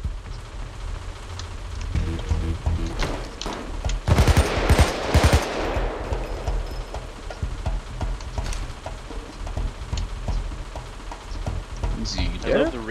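Automatic gunfire from an MP5 in Payday 2 during a bank heist, rattling in dense bursts with a sharper volley near the middle, under scattered game noise and occasional talk.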